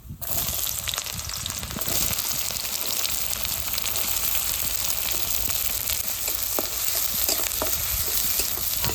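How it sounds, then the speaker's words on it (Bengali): Sliced onions hit hot white oil already seasoned with cinnamon, cardamom and cloves for potato dum, giving a loud, close, steady frying hiss with stirring scrapes that runs unbroken the whole way through. "এবার কোচানো পেঁয়াজগুলো দিয়ে দেবো তেলের মধ্যে"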